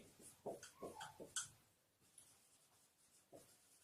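Chalk or marker writing a cone-volume formula on a board in a classroom, a few quiet scratchy strokes and taps in short bursts, then a pause and one last stroke, faint and close.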